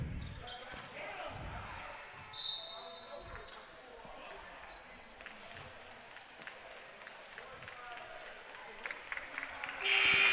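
Basketball dribbling on a gym court during a West Hills-Coalinga versus Columbia College men's game, steady bounces mixed into broad crowd noise and commentary, with a cheering swell near the end.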